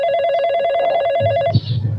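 A telephone rings with a steady electronic trill, loud and close, then cuts off and a low hum follows in a Gujarati comedy scene.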